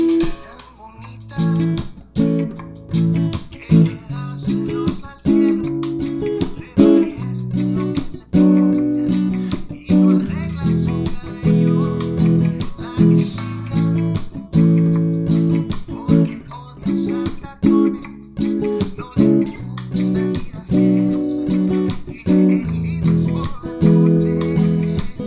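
Acoustic guitar strums the chords of a song in a steady, rhythmic pattern, played close and clear on its own for the whole stretch without singing.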